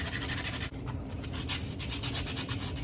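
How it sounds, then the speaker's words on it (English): Coarse 80 grit sandpaper rubs quickly back and forth over a natural wooden slingshot fork, a loud close-up rasping in rapid repeated strokes with no break and no talking. "I've got me some 80 grit here. It does really well. I'm just gonna start grinding. Gets this nice and smooth."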